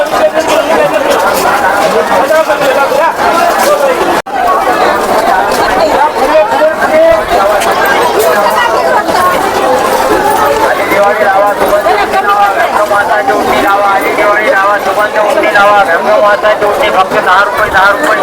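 Dense, steady crowd chatter at a busy weekly Diwali market in Bodhadi, many overlapping voices filling the scene evenly and loudly throughout, with vendors and shoppers talking close by.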